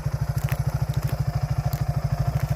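A 1987 Suzuki SP200 dual-sport motorcycle with brand new tires is ridden off-road through dirt in a field. Its single-cylinder engine putters steadily and loudly with a rapid, even exhaust pulse, heard close up without talking.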